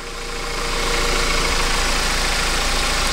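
A rebuilt Audi TT mk3 engine turns over and settles into a steady, loud idle on its first start after the rebuild, with a dense even drone close by and no voices.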